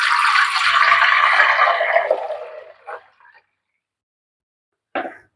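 Stirred coconut milk pours from a vessel into an uruli while making amrutham powder halva, a loud close rushing splash that tapers off into a few faint drips, then one brief knock near the end.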